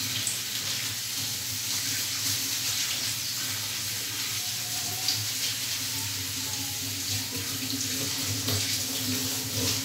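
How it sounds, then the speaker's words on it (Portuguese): Steady stream of tap water running into a kitchen sink while rice is being washed, a constant moderate splashing hiss with no pauses and no talk. "Eu tenho que lavar bem esse arroz."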